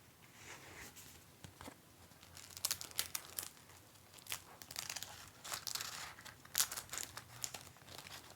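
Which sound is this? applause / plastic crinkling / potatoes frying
plastic crinkling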